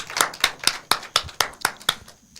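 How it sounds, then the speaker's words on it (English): Sparse clapping at a youth parliament event on the girl child, about nine separate sharp claps in an even rhythm that fade out, fairly close, with no voices. "let's put our hands together for the girl child."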